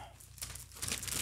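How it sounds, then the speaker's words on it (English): Bubble wrap and plastic packaging from a metal print being unwrapped, giving soft crinkling and rustling that swells louder toward the end, close by and with no talk. "That is a lot of bubble wrap right there."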